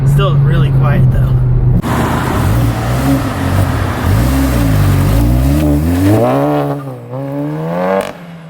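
A MK7.5 Volkswagen GTI with a cut-down AWE exhaust accelerates hard nearby, its engine note climbing through rising, wavering pitch sweeps over a rumbling base before easing off at the end.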